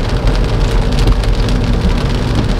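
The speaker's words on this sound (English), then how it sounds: "Yeah, it's raining." Loud, close rain patters and drums densely on a nearby surface while driving in Thailand, a steady wash with scattered sharper drops and a low rumble beneath.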